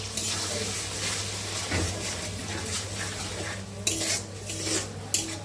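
A spoon scrapes and stirs masala frying in oil in a pan for a village-style fish curry, steady sizzle under clinks of metal against the pan.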